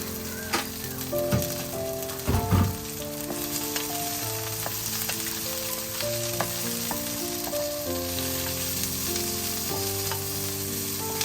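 Steady, close sizzling of garlic and asparagus frying in butter in a pan, with light scraping and stirring sounds and soft background music, no talking.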